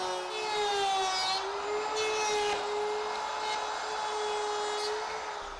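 Wood router fitted with a carbide-tipped bit running steadily and cutting wood for an outdoor casual table, a loud continuous high whine with small shifts in pitch as it moves through the material.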